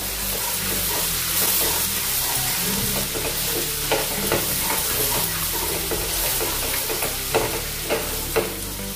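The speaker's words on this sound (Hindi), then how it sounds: "एक मिनट इसको भून लेंगे। अभी मिक्स करने के बाद" Chana dal and onion curry frying in oil while being stirred, a steady close sizzle broken by repeated scraping strokes of the spoon against the pan, with no voices.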